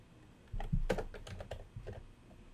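Typing on a computer keyboard while entering a date into a date picker, a quick run of close, crisp key clicks lasting a couple of seconds with no talking.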